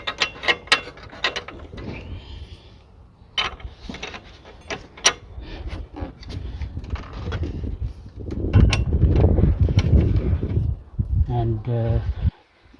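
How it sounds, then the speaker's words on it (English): A 22 mm ratchet clicking as it works loose a stuck DPF sensor on a Mercedes C220 during car repair, with sharp metallic ratchet ticks in bursts and someone talking over parts of it. "That's 22 mil ratchet."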